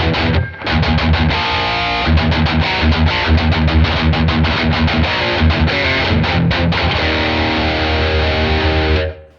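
Heavily distorted electric guitar in a metal tone runs through a Nux Trident with room reverb, playing loud, tight palm-muted chugs and sustained chords for about nine seconds with no voice over it.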